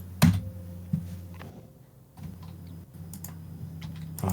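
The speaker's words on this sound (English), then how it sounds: "Is my keyboard not working?" A computer keyboard taps out a few irregular keystrokes against a low steady hum, the clicks sparse and fairly quiet with pauses between them.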